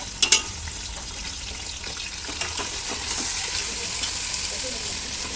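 Onions fry for vangi bath in a pan, a steady close sizzle broken by a few sharp clinks and stirring scrapes.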